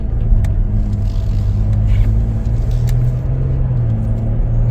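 A 2022 Chevrolet Traverse LT AWD on a test drive gives a steady, loud low engine and road rumble from inside the cabin that continues without a break.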